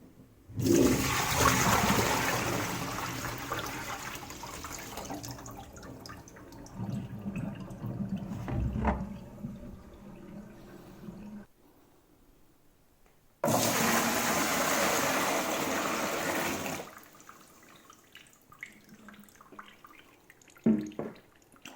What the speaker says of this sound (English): Hot water, let's rinse it